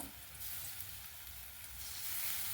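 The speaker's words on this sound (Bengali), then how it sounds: "ভেজে নেবো পেঁয়াজটা। পেঁয়াজটা ভাজা হয়ে গেছে।" Onions sizzle quietly in a hot pan, a soft, steady crackle of frying with no voices.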